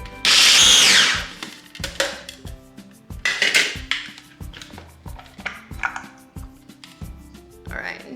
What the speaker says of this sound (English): all we're gonna do is blitz up some walnuts